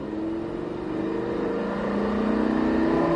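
A race car on a circuit accelerates harder and harder, its engine note climbing steadily in pitch and growing louder over a few seconds, close and continuous.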